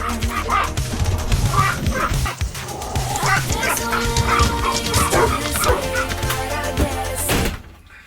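Puppies bark, yip and whimper close by in an excited, continuous jumble of overlapping voices as they are let out, with a person speaking among them.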